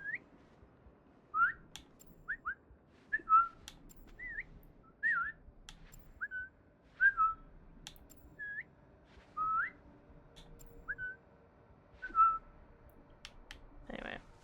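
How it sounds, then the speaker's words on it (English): A series of about ten short, bright whistle calls from Assassin's Creed Shadows, spaced in an uneven rhythm over quiet game ambience, ending with a brief rustling burst. "I always love how stock imagey these whistles sound."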